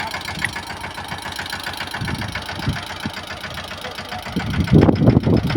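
A Yuvraj tractor engine idles steadily in a pigeon pea field with a regular low chugging rhythm, growing louder and rougher near the end.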